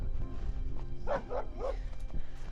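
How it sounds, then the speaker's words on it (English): Dogs up on a deck by a lake reservoir at Lake Tahoe give three quick, fairly faint barks in a row, heard at a distance over outdoor background noise. "Got some dogs up on the deck, probably jealous that we're out here walking around"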